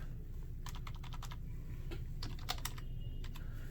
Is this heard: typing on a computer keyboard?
yes